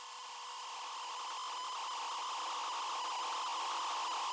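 A dense, hissing wall of distorted noise that swells slightly louder over several seconds, steady and textured like static feedback.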